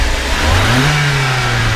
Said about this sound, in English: Go ahead and rev it up a couple times.